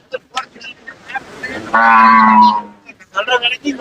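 A cow at a cattle market gives one loud, sustained moo lasting under a second, surrounded by the clatter and murmur of people talking nearby.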